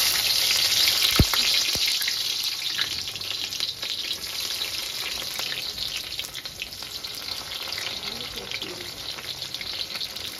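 Onions, green chillies and curry leaves fry in a hot pan for a chicken curry, giving a steady close sizzle and crackle throughout, with a couple of sharp clinks near the start and no talking.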